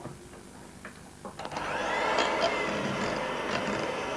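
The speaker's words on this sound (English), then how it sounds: "I think this is where I'll reach for the electric whisk" An electric whisk whirs up after a few clinks and stays at a steady, loud high-pitched buzz as it beats a mixture in a bowl, with no talking over it.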